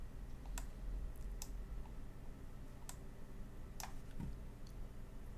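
A computer mouse clicks during work in After Effects: a handful of sharp, isolated clicks spaced irregularly over a steady low hum, close and fairly faint.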